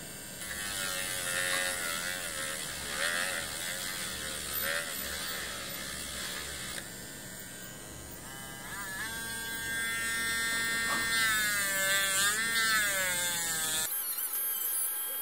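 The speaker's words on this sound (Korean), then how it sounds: "귀퉁이를 한번 깔끔히 정리를 한번 해줄까요" A power grinder trims the corners of a 4 mm board indoors while building a 3D hologram stand, giving a loud, steady buzzing whine with shifting pitch that runs for about fourteen seconds before cutting off abruptly.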